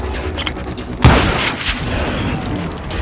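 A single heavy gunshot booms in the Call of Juarez Gunslinger video game, loud and close, followed by a few fainter shots and echoes amid a busy background.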